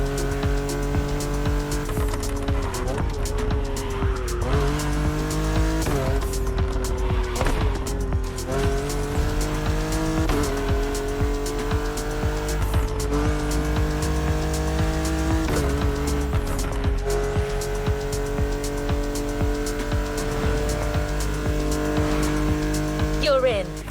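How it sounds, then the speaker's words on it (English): A 1969 Camaro Z28 drives in The Crew Motorfest video game. Its engine drones steadily, and the pitch drops and climbs again through several gear changes, with speech or other sound layered over it. "assuming you're driving the 1969 Camaro Z28"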